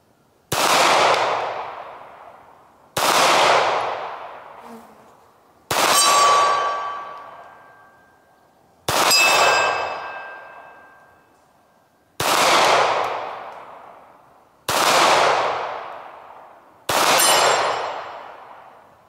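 Seven single 9mm Makarov pistol shots fired at intervals of roughly two to three seconds, several followed by a sharp ringing ping as rounds strike steel targets 35 to 45 meters away.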